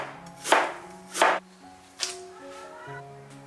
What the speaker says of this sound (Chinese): 子姜也切成薄片。